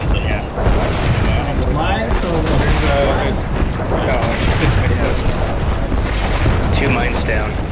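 Dense, nonstop battlefield noise from the online shooter Renegade X, with explosions and gunfire piling up in a loud, continuous wash while players talk over the top.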